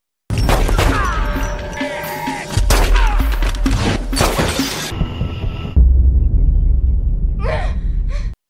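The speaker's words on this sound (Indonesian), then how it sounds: "baku tembak pun terjadi" A film gunfight with dense bursts of sharp gunshots and crashing, shattering impacts, loud and close, which give way to a quieter rumble and a few scattered cracks near the end.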